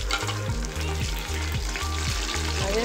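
Curry leaves and spices, with lentils, fry in hot oil in a pan, giving a loud close crackling sizzle with steady stirring scrapes throughout.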